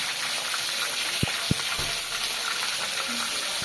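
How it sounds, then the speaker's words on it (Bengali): Pangas fish pieces lightly frying in a pan make a continuous close sizzle, with a few sharp utensil knocks partway through and no speech. "পাঙ্গাস মাছটা বেশি ভাজবো না, বেশি ভাজলে তাই ভেঙে যাবে, এই জন্য আমি অল্প ভাজা দিচ্ছি।"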